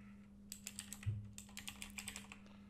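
Fingers type on a computer keyboard while entering a username, giving a quick, close run of crisp key clicks over a faint steady electrical hum.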